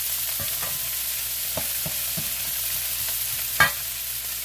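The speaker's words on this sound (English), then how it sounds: "I just want these to stir fry." Vegetables stir-frying in very hot oil for a beef and pasta stir-fry, a steady close sizzle with soft periodic stirring taps and one sharper knock near the end.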